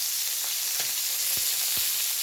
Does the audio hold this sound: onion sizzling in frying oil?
yes